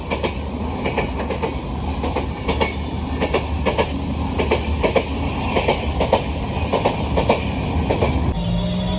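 A train rolls past at Bhuteshwar railway station, its wheels beating a steady clickety-clack over rail joints at close range, loud and rhythmic throughout with a faint squeal of metal, and no one speaking.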